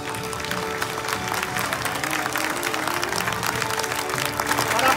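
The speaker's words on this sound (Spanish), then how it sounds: "Yo quiero un aplauso muy grande para Alberto Royuela Fernández." A crowd at a theatre event applauds steadily with dense, continuous clapping that sounds moderately distant, and a few faint voices come through underneath.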